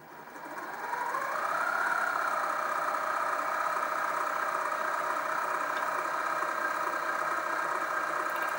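A LittleMachineShop 3960 HT minimill motor spins up from quiet and holds a steady whining hum with the fine feed engaged, close and even throughout.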